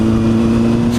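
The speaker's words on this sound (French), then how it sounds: "Ça fait du bien de rerouler un peu en moto aussi." A Honda Hornet motorcycle ridden at an easy pace on wet ground, its engine giving a steady, even drone with a strong constant tone throughout and no voices.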